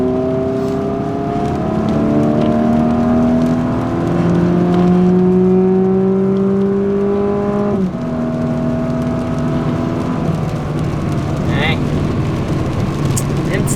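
A car engine revs and accelerates hard on a run with a slight loss of traction, its pitch climbing through several gear changes in a loud, close, sustained whine and roar.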